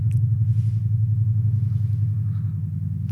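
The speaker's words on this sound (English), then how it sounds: "We'll just wait for that helicopter to fly overhead." A helicopter flying overhead makes a loud, continuous low rumble that holds steady throughout, droning without a break.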